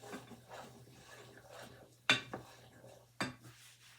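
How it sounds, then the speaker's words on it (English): Mushrooms, onions and garlic stirred in a pan for creamy mushroom soup: soft scraping under faint background noise, with a few sharp utensil clinks against the pan standing out near the end. "Give these another stir."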